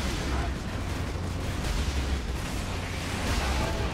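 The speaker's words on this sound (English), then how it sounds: "Let's see if we can las cannon this dude right here." Lascannon fire in the Warhammer 40K Space Marine video game, a dense, loud, continuous blasting roar with heavy low rumble and no pauses across the clip.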